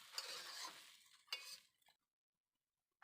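Chow mein stirred in a hot pan: a sizzling scrape and toss for about a second and a half, a second brief stir, then silence, close but quiet.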